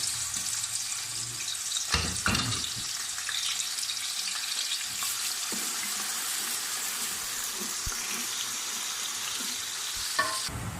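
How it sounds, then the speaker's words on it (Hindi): Onion sizzles and crackles in hot ghee and oil, a dense, even frying hiss close by with a couple of sharp spatula knocks near the start and end, no voices. "सबसे पहले घी गर्म हो गया, ऑयल गर्म हो गया, ये प्याज चला गया इसमें"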